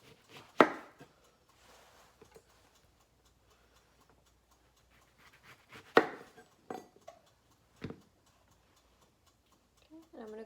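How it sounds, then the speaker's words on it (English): A knife cuts through the ends of an orange in a few sharp, separate chops against a board, clear and close with quiet gaps between them, while a person speaks softly. "So I'm going to start by cutting both ends off."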